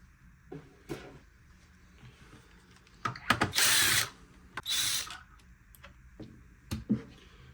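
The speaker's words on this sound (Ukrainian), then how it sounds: "Тепер Викручуємо дані гвинти і розщепимо корпус." Casing screws on a Rowenta X-Plorer Serie 140 robot vacuum are backed out with a driver: two short whirring bursts between scattered clicks and small handling knocks, close and fairly quiet, with no talk.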